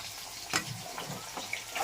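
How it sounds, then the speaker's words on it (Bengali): Drumstick stalks frying in a pan, a soft sizzle with a few sharp spatter pops and brief stirring scrapes, faint and close. "ডাঁটাগুলো ভেজে দেবো"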